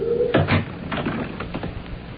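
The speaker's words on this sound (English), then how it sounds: "shut the door" A door swung shut on a cold night at a small shop about to close up, giving one solid thump near the start followed by a few softer knocks and rattles, close by and with no talking.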